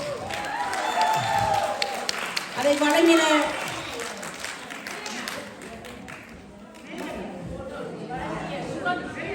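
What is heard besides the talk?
audience applause at a Women's Day event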